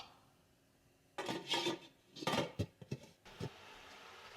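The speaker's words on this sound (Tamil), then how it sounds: "இனி நாங்கள் இதை மூடி விடுவோம்." A lid is set onto a cooking pot of chicken and rice pongal (kozhi pukkai) in a home kitchen: after a quiet stretch, a close burst of metallic clatter and scraping comes, then a few sharp clinks that fade out.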